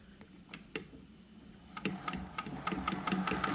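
A sewing machine with a binder attachment stitches pre-folded binding: a few quiet clicks and a sharp tap give way to a steady, fast mechanical chatter of needle strokes, close and moderately quiet, with no talking.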